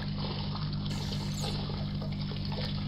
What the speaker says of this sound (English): you hear the loud splashing